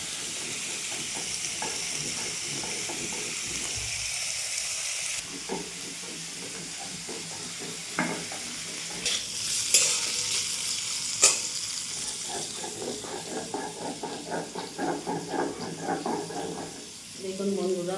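Sesame seeds fry and get stirred in a pan for a sweet-sour-spicy dish, a steady sizzle and hiss with scraping stir strokes throughout, and a voice speaking now and then over the cooking.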